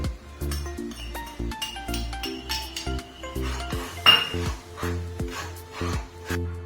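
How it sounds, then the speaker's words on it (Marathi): A spoon clinks and scrapes against a metal pan while stirring a milk and powdered sugar mixture for barfi, with rhythmic ringing taps close by and no voices. "मी पिठी साखर घालून घेते आहे आणि चांगलं हे मिश्रण ढवळून घेते आहे"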